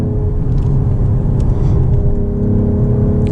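A Mercedes-AMG GT 53 in sport mode with its exhaust set to the loudest setting, a loud, steady low engine rumble and whir heard from inside the car, with a faint rise as it pulls under load and no talk.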